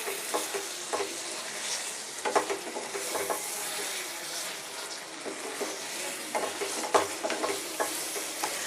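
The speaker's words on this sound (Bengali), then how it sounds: "ভালো করে মিশিয়ে নেব।" Spoon stirring garam masala powder into a Punjabi-style chicken gravy in a pan, soft scraping and clicking strokes over a low sizzle, steady and close.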